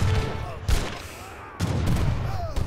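Gunfire from abus guns in Age of Empires III, a competitive match: bursts of volleyed shots at about 0.7 s and again from 1.6 s onward, over steady battle noise with faint overlapping game sounds.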